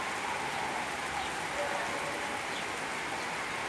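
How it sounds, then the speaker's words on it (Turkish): Steady rain patters densely on hard surfaces, a constant close hiss with no pauses and no talking. "Duyuyor musunuz yağmur sesini?"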